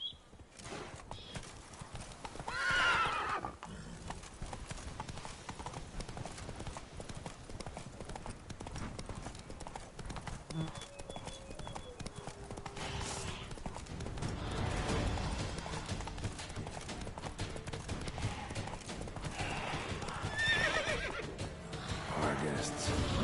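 Horse hooves clip-clop at a gallop in Witcher 3, with a whinny around the three-second mark and another neigh later, under game music and occasional speech.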